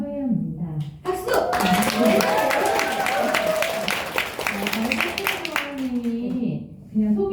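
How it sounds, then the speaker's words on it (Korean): An audience at a business event claps together after a speaker introduces herself. The applause is dense, steady and lasts several seconds, with voices mixed in around it. "박수!"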